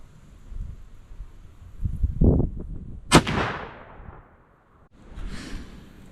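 A muzzleloader rifle fires one sharp, loud shot outdoors, the blast trailing off in a long rolling echo; quiet handling noises come before it and a soft rustle follows.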